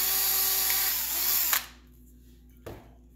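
A Silver Bullet Xtreme drill bores into a pinewood derby car with a high, steady whine that stops abruptly at about halfway. A brief clack follows a moment later in the quiet.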